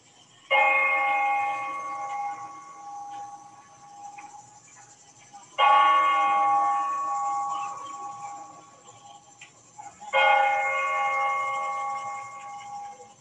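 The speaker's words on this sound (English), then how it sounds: "That bell rings every hour, like almost every bell tower in Europe." A harbor bell tower in Hydra, Greece rings out the noon hour: three loud, resonant strikes spaced about five seconds apart, each decaying slowly over a quiet waterfront background.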